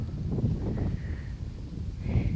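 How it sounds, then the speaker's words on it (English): Strong wind buffets a microphone outdoors in a flower garden, a continuous low rumbling roar with gusty swells that fills the whole stretch. "It is very windy out, so I'm sorry about the noise there."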